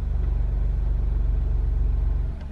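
A steady, deep, pulsing exhaust rumble from an Alfa Romeo Giulia Quadrifoglio idling in race mode, heard up close and even throughout, dipping slightly near the end, with no voices.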